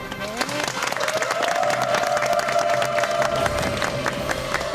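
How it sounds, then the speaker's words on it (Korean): A television studio audience applauds and cheers to welcome a medical guest, dense clapping with whoops, while a sustained tone and some voices sound over the crowd. "여러분 박수로 환영해 주십시오"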